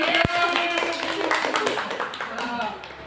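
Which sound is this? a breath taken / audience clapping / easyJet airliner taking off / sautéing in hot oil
audience clapping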